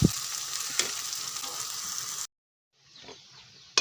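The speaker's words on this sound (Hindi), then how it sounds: "थोड़ी देर पकने देते हैं इसको।" Chicken liver curry sizzles and fries in a pan over a medium flame, a steady bright crackle that cuts out for about a second before resuming more softly.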